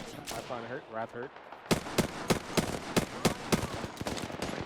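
Weapon fire in the video game Apex Legends, rapid bursts of sharp gunshots in a quick irregular rhythm, loud and up close, with a voice talking at the start.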